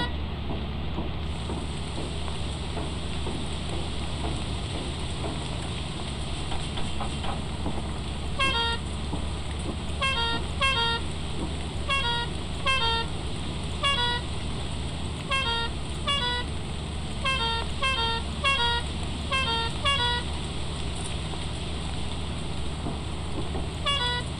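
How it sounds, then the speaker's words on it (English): Short repeated honks from a vehicle horn in the video game Lethal Company, sounding in irregular bursts over a steady engine-like drone and background noise, fairly loud and close throughout the second half. "Time to make noise with my horn."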